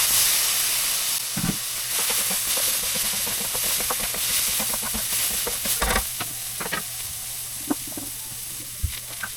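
Tomatoes hitting a hot pan: a loud, steady steamy sizzle with scattered pops and spatters, close and continuous, gradually settling a little toward the end.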